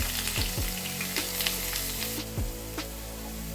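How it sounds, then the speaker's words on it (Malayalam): Onion, green chilli, ginger and garlic sauté in hot coconut oil in a pan, giving a loud, continuous close sizzle broken by a few scraping stirs and clinks, with no one speaking. "അതിലേക്ക് സവാള, പച്ചമുളക്, ഇഞ്ചി, വെളുത്തുള്ളി ഇട്ട് വഴറ്റിയെടുക്കാം"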